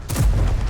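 A tank cannon shot in the video game World of Tanks: one heavy, booming blast with a deep rumbling tail, short and loud.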